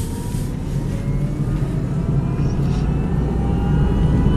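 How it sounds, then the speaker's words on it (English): An Ampmobiles electric vehicle drives along a road, giving a steady low rumble of tyres and road noise that holds even and continuous with no engine sound, close and moderately loud throughout. "we'll show you just how quiet an electric vehicle can be"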